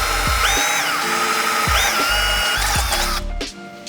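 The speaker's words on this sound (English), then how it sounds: "I'm gonna use a step drill bit because I do not wanna use a regular drill bit and go right through the fender" A power drill fitted with a step drill bit bores into a car fender, giving a loud, steady whine with repeated short bursts and pitch shifts as the bit bites into the metal.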